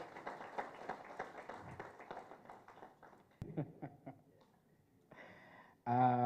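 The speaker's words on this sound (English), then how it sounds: "Please give him a clap as he gets on stage." Scattered clapping comes from a modest audience at a PBO Week event as a speaker walks on stage. The claps are faint and irregular and taper off, followed by a few brief louder noises.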